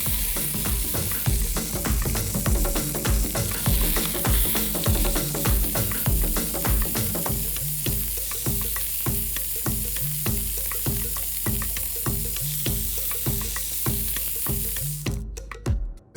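Pork sears in a little oil in an extremely hot pan, a loud, dense crackling sizzle with rapid spitting pops that carries on unbroken before stopping abruptly at the end.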